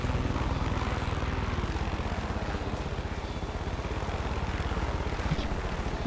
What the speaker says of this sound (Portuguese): Pô, tem um helicóptero aqui, velho.